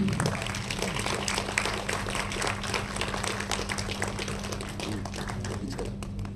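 Audience applause greeting a guest invited onto the stage at a human rights organisation event honouring women, a steady patter of many hands clapping throughout, fairly close, over a low hum.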